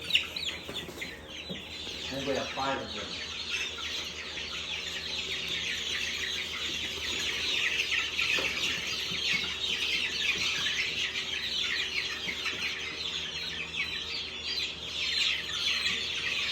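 Chickens cluck and a rooster calls among a large flock of poultry, a steady busy chorus of clucks and chirps throughout, with a person briefly speaking over it.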